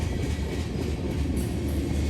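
A Canadian Pacific freight train rolls quietly through town with a steady low rumble and rushing noise, constant and fairly close, with no voices.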